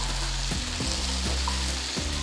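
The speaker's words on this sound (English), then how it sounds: "Mix it along with the potatoes." Chopped tomatoes and potatoes stirred in a frying pan for aloo palak sabji, with a loud steady sizzle and several spatula scrapes at roughly half-second intervals, heard close up with no talk.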